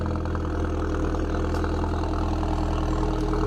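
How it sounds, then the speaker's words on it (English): A Volkswagen GTI engine idles after a cold start, a steady deep low rumble with an even pulsing beat, close and continuous with no voices. "we're gonna quick cold start"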